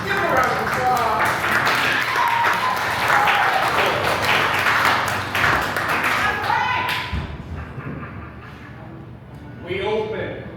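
An audience at a live comedy show claps in a loud, dense round of applause lasting about seven seconds before it fades into quieter room sound.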